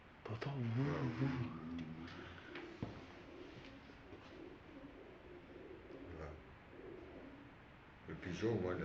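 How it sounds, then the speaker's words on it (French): Soft pigeon coos come in a rolling series, most clearly at the start and end, while people talk nearby over faint background hum. "C'est un pigeon."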